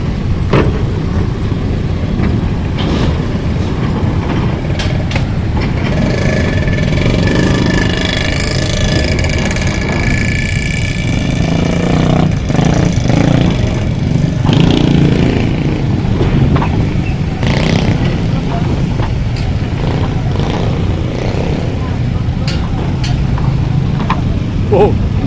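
Many motorcycle engines idle and rev together at a busy ferry port, forming a loud, dense, continuous rumble with passing revs. People talk over the noise.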